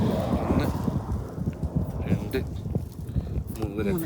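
Desert wind buffets the microphone in a low, rough rumble throughout, with people talking over it.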